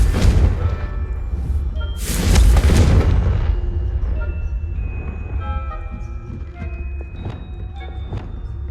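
A fiery Confringo spell blast in Hogwarts Legacy bursts loudly with a rumbling boom that decays into crackling debris, followed by lighter game effects and chimes, no speech.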